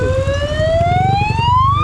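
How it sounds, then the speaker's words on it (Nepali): An ambulance siren wails loudly and steadily close by in a traffic jam, its tone sweeping slowly upward over a low rumble of idling engines. "एम्बुलेन्स साउन्ड मात्रै सुन्छ"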